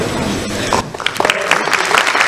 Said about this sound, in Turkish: uğurluyoruz alkışlarınızla efendim